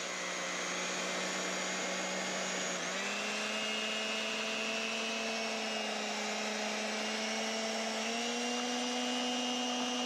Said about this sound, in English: I've got an old-fashioned hand blender here.